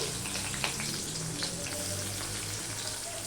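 Chopped onion and garlic frying in hot oil for a potol (pointed gourd) curry, giving a steady, dense crackling sizzle with scattered pops that runs evenly throughout, no voices.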